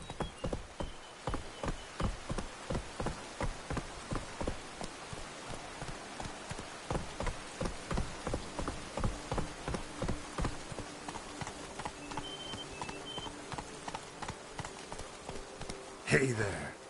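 Roach, the horse in Witcher 3, galloping with steady, evenly spaced hoofbeats that run for the whole stretch at moderate loudness, ending in a brief louder burst of noise.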